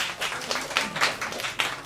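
Brief, uneven clapping from a small crowd at an intimate open mic music night, a few sharp bursts close by, with no talking.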